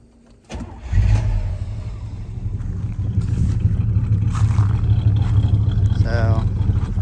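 A 1980 Trans Am V8 with its original Quadrajet carburetor cranks and fires after a short quiet moment, then settles into a steady, loud, close rumbling idle that swells slightly; a voice speaks briefly near the end.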